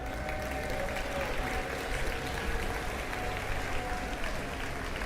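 Dense, steady applause from a large audience at the closing ceremony of the Pokémon World Championships, continuous and even for several seconds with no voices on top.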